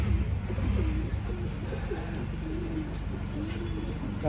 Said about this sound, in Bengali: মাদি পায়রা